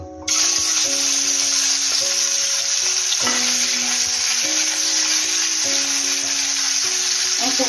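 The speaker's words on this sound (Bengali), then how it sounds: "তেলটা গরম হয়ে গেছে এবার আমি চিংড়িটা তেলের মধ্যে দিয়ে দেব" Prawns sizzle loudly and steadily in hot mustard oil in a pan with red and green chillies, a continuous close frying hiss, with faint musical tones underneath.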